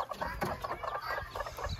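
A hen with small chicks clucks softly and repeatedly at close range, in quick rhythmic pulses of low clucking mixed with faint peeps.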